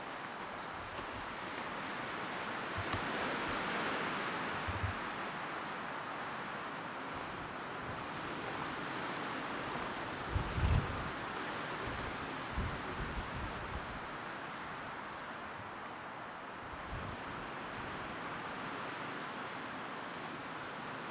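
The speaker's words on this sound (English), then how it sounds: "It might be loud because it's super windy." Strong wind roaring steadily across an open valley beside a telephone pole, a loud continuous rush with gusty swells and microphone buffeting throughout.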